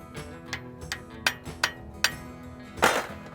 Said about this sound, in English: We're just gonna tap this bolt out here.